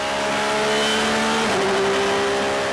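Race cars at the 24 Hours of Dubai roar past loudly, engine pitch sliding down as one car brakes or passes close by, a continuous dense motor sound with no voices.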